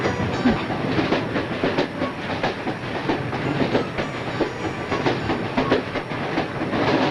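A train rolling along the rails as it nears a station, with a steady, loud rumble and a repeating clickety-clack of the wheels that fills the whole stretch without a break.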